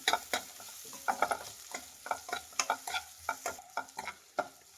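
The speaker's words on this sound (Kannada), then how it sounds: "ಈರುಳ್ಳಿ ಒಂದು ಸ್ವಲ್ಪ ಚೆನ್ನಾಗಿ ಫ್ರೈ ಆಗಬೇಕು. ಈಗ ಒಂದು 3 ಹಸಿರು ಮೆಣಸಿನ್ಕಾಯಿ ಹಾಕ್ತಾ ಇದ್ದೀನಿ. ಇದು ಅಷ್ಟೇ ಫ್ರೈ ಮಾಡಿ." Onions and green chillies frying and being stirred in a pan for a dhaba-style paneer masala gravy, with soft steady sizzle under irregular scraping stirs, fairly quiet and without talking.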